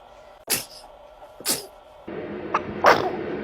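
Two sharp infant sneezes land about a second apart, close and loud, followed by a couple of softer snuffly bursts as background noise rises slightly.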